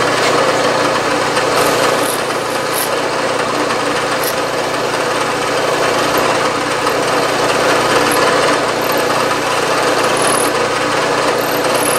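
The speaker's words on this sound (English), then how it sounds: "Now I'm drilling with the tap drill size" A loud, continuous grinding and whirring of a tap drill boring through a tiny brass steam engine elbow fitting, steady throughout with a harsh, gritty texture and no talking.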